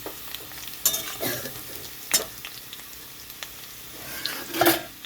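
Fried potatoes for a vegetarian eggplant and potato curry sizzle in a pan while a spoon stirs and scrapes them in several sharp, irregular strokes over a low crackling background.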